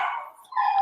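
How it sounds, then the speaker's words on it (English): A dog barks and yelps in two short bursts indoors, a fairly close, whiny sound with a brief pause between. "Sorry about the dogs in the background."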